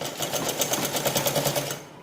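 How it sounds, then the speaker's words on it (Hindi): A sewing machine runs steadily while stitching a petticoat, its needle giving a fast, even rhythmic clatter up close for about two seconds before it slows to a stop. "अब ये वाली सिलाई लगा दूँगी मैं"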